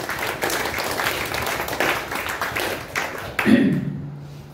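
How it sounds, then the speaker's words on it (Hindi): An audience at a gathering claps for a few seconds, a steady patter of many hands that breaks off near the end, mid-distance and alone. "वेरी गुड, तालियां बजाओ अपने लिए"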